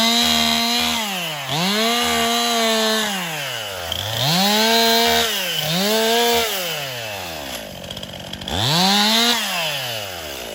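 Chainsaw cutting tree branches on rough, steep terrain, the engine repeatedly revving up and dropping back in several loud surges, close by with brief idle gaps between cuts.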